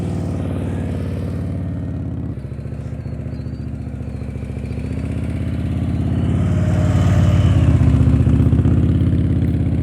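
A motorcycle engine runs steadily during slow-speed riding practice, idling with a low rumble, then rising slightly with throttle toward the end, loud and close with no talk.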